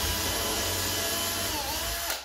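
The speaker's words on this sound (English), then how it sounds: "I'm just pushing the drill up into the corner rather than having to measure every single one" A power drill drills into wood, whirring steadily at close range for about two seconds, then winds down and stops.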